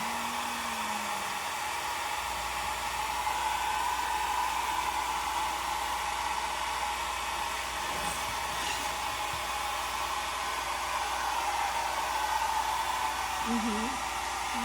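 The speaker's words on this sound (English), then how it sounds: "we can blow it dry" A hair dryer blows steadily at close range to dry paint on an icon, a constant loud whooshing hum throughout with a faint voice briefly under it.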